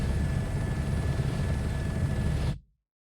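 A helicopter in Microsoft Flight Simulator gives a steady, loud rotor and engine drone with a high turbine whine, holding evenly before cutting off abruptly near the end.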